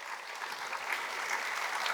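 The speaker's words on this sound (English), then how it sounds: "One round of applause." Steady audience applause fills a formal Navaratri celebration hall at Ravindra Kalakshetra, a dense, even patter of many hands clapping at moderate volume without pause.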